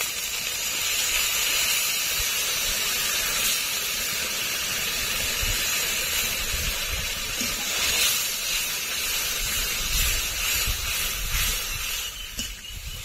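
Loud, continuous hissing sizzle of spice-washing water hitting hot oil with frying ginger, garlic and ground spices for chicken masala, a steady spitting roar close up that barely lets up.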